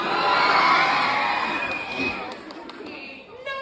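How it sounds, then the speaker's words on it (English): A large live audience of young fans at a Q&A show in New York screeches and cheers loudly in a sustained high-pitched roar that fades toward the end. "No more screeching, please."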